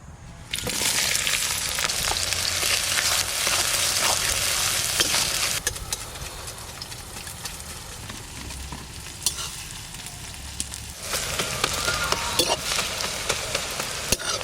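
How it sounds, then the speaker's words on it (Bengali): Onions fry in a pan with a dense, loud sizzle and scraping stirs nearby, easing to a softer crackle midway before swelling again toward the end, with no voices. "পেঁয়াজটা ভাজা ভাজা হয়ে গেছে"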